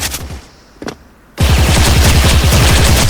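Rapid bursts of suppressed M4A1 rifle fire in the shooter game Special Force, loud and continuous after a brief quiet lead-in with a single short shot.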